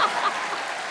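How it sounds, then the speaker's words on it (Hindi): A television comedy-show studio audience claps in a short, steady burst of applause, close and fairly loud, with no voices over it. "अब ज्यादा तालियां अर्चना जी के लिए बजाइए"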